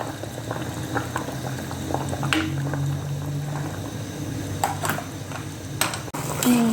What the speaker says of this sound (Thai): เดือดนะคะทุกคน